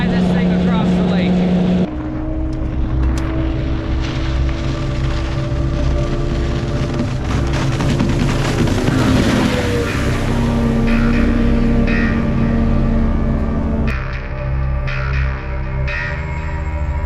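A 13-foot Delta racing boat speeds across a lake, its engine a loud, steady, buzzing drone that shifts pitch partway through and carries on without pause, with speech over it at times.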